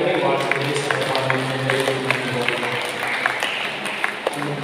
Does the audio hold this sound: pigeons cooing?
no